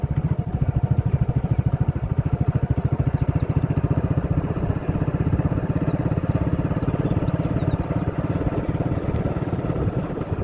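A small motorcycle engine near a tube well idles in a fast, even putter, close and steady throughout, with a faint clatter over the running engine.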